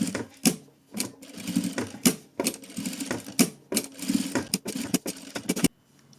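Sewing machine stitching a gathered felt flower for a keychain, running in repeated short bursts of rapid mechanical whirring with brief pauses between, close and fairly loud, then stopping near the end.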